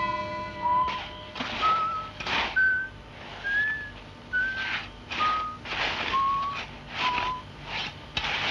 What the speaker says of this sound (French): Non, arrête de siffler, tu me casses les oreilles.